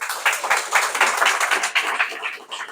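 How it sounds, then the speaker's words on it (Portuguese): An audience at a GEBTALKS event applauds a lawyer, Dr. Marcos Oyan, as he is called forward. The clapping is brisk, even and continuous, close and fairly loud, with no voices over it. "Eu queria chamar aqui à frente uma grande salva de palmas para o Dr."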